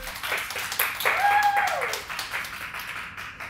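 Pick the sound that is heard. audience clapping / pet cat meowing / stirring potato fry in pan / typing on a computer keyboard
audience clapping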